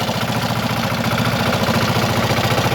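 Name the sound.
screw chipper engine running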